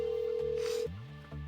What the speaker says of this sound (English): Okay, the ringtone.